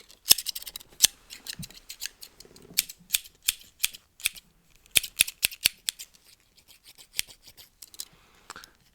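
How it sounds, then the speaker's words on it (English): Crisp scissor snips cutting hair during a relaxing haircut, close and intimate, a quick irregular run of sharp metallic cuts with short pauses between them. "a lot of cutting."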